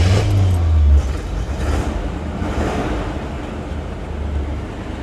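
1964 Cadillac Sedan DeVille with a 429 cubic inch 7-liter V8 and 3-speed automatic starts with a loud burst, then settles into a deep, rumbling idle that carries on steadily.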